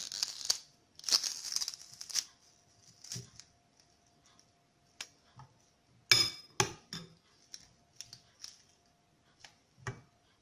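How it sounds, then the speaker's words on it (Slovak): Two garlic cloves crushed for a garlic yogurt-and-cream dressing, heard as a string of sharp, close knocks and clinks in uneven bursts with quiet gaps between them. "A pridáme 2 strúčiky cesnaku, ktorý roztlačíme."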